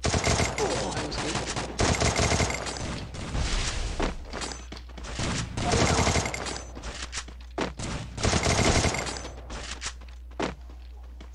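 Rapid bursts of automatic gunfire and single shots in a shooting video game, loud and dense, coming in repeated clusters with short gaps between.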